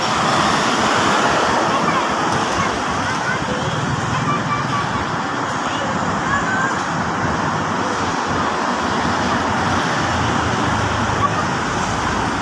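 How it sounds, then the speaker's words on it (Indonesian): Dense, steady roar of heavy road traffic on a jammed toll road toward Cikampek, a continuous broadband wash of engines and tyres close by with no quiet gaps throughout. "Awas jangan ke jalan, banyak mobil."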